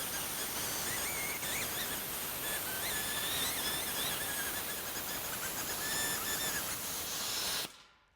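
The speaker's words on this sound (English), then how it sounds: "I'm going to blow the air from the inside of the intake manifold" Compressed air blows through an engine intake manifold in a continuous loud hiss with faint whistling tones, lasting several seconds before cutting off abruptly.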